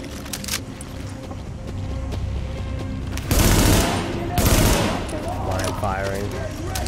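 Rapid gunfire in The Division's contaminated subway area, sustained rattling shots under game noise, with two louder heavy bursts of fire standing out near the middle.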